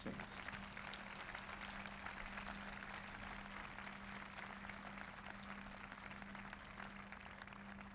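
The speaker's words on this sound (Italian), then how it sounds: "io farei un applauso ancora forte a Cenzo" A seated theatre audience in Monserrato applauds for Cenzo Vadilonga, a soft, continuous wash of distant clapping with a steady hum underneath, faint and even for the whole stretch.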